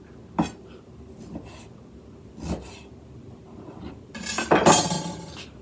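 A few sharp knife knocks on a cutting board, spaced out at first, then a quicker cluster of clattering chops near the end, close by, as beef is cut into cubes for stew.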